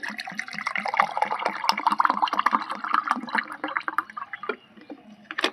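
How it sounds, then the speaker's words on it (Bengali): Cold water poured into a glass of amchur (dried mango) powder drink with black salt, a steady close splashing pour lasting several seconds and tapering off near the end. "আমি চিনিটা দিচ্ছি না, দিয়ে দিচ্ছি একটু ঠান্ডা জল।"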